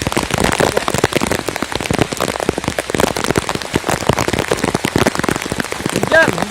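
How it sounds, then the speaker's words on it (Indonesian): Heavy rain falls hard and close on a surface during a freshwater prawn fishing outing, a loud, dense patter of crackling drops throughout, with a brief tonal sound near the end. "Hujan."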